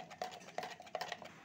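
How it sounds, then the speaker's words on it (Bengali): A spoon stirring baking soda into a little water in a small vessel, producing quick, light metallic clinks and scrapes in an irregular rhythm, close and fairly quiet. "তো একটু চামচের সাহায্যে একটু ভালো করে মিশিয়ে নেব"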